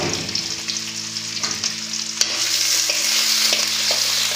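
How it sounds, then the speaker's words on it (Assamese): Onions for egg chowmein fry and get stirred in a pan, a continuous sizzle punctuated by scraping strokes and a sharp clack, over a steady low hum. "পিঁয়াজকণ অকণমান ভাজি লৈছোঁ"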